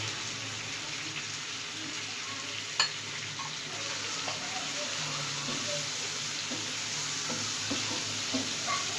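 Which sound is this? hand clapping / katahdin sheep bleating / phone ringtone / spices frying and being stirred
spices frying and being stirred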